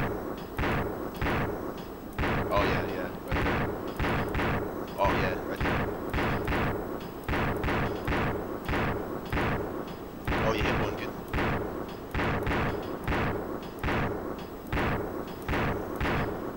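Gunfire from two shooters in a video game repeats in a steady, even rhythm of loud shots, about one per second, with a voice talking in between.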